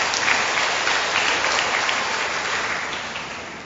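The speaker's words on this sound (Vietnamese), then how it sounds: "chúng ta vỗ một tràng pháo tay thật lớn để chúc mừng" Church congregation gives a big round of applause during a Mass for the feast of All Saints, full and steady clapping across the hall that slowly tapers.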